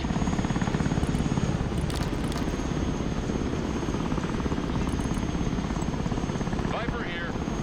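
Tilt-rotor Osprey aircraft in the video game Broken Arrow, a steady loud rotor and engine drone filling the whole stretch, with brief radio-style voice lines over it.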